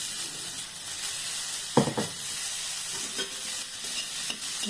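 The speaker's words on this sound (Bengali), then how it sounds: "নুন দিয়ে এটাকে একটু ভাজবো, আর একটু কালো জিরা দিয়ে দিলাম" Food frying with salt and black cumin (nigella seeds) in a pan, a continuous close sizzle and hiss with a couple of brief stirring scrapes and knocks.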